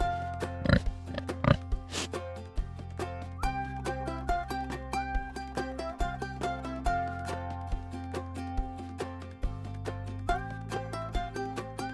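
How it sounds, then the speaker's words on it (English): A pig oinks over a steady musical backing on a farm animal guessing game for toddlers, with a few short grunts standing out clearly near the start. "I'm a pig."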